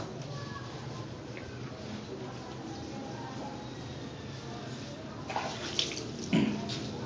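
Bath water pours steadily from a tap into a tub, a loud continuous wash that fills the whole stretch, with a couple of faint knocks near the end.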